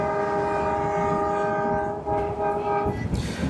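A train on the Mailani to Bichhiya line through Dudhwa forest sounds a loud, sustained horn close by over a steady rumbling of wheels and carriages, the horn cutting off near the end.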